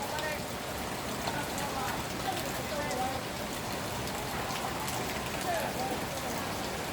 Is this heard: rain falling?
yes